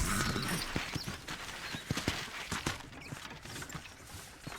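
Horse hooves in Red Dead Redemption clip-clopping at a steady walking rhythm over a busy background wash of ambient noise, moderately close.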